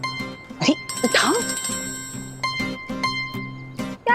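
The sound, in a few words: phone ringing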